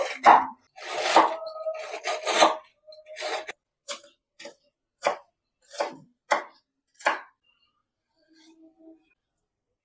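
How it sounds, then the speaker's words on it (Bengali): Cabbage finely chopped with a knife on a board: a quick flurry of cuts followed by a series of distinct, evenly spaced chops that slow and fade, close and crisp with no talking. "কিছুটা বাঁধাকপি আমি এখানে কেটে নিচ্ছি এটা খুব মিহি করে কাটবো"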